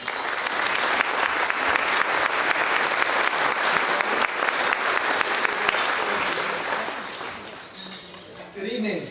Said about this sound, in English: So please keep that clapping going.